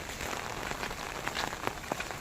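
Steady rain falls outdoors during a monsoon downpour near flooded fields, a continuous patter of drops on surfaces with a few sharper nearby splats, no voices.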